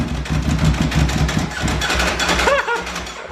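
A Ducati Panigale V4 SP, not started for months, runs with a rough, rapid, pulsing engine note close by, its revs rising briefly near the end.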